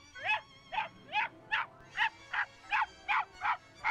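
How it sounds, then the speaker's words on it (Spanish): A small dog behind a wire-mesh fence overgrown with blue bellflower vine barks in a steady run of about ten sharp, high yaps, evenly spaced and fairly close, with no talk over them. "detrás un perro chico que ladra como si fuera grande"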